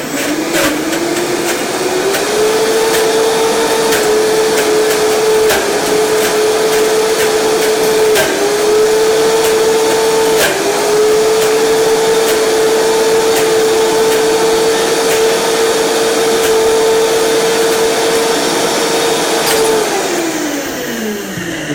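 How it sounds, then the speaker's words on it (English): A blender runs continuously for about twenty seconds, whirring loud and steady at a constant pitch while it blends wholefood ingredients seasoned with black pepper, with a few brief dips in speed before it winds down at the end. "And hit blend."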